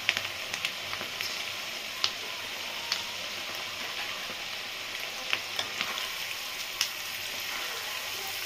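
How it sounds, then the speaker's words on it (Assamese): Fiddlehead fern sizzles steadily as it fries with salt and turmeric, with occasional soft scrapes and taps of a spatula stirring the pan over a constant hiss. "আৰু এতিয়া ধুনীয়াকৈ লৰাই ভাজি লৈছোঁ এইখিনি।"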